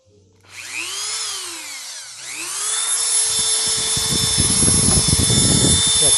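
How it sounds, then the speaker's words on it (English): Dremel rotary tool spinning up with a rising whine, dropping briefly, then grinding into plastic of an OKSIWA tail light for a GMT900 truck, loud and close with a steady high pitch and a rough grinding texture. "We'll put on the safety glasses and then use the Dremel and get going."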